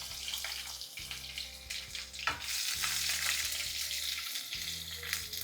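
Dried red chillies sizzle and crackle in hot oil in a pan as they darken, making a steady frying hiss punctuated by stirring scrapes, with a low musical hum underneath.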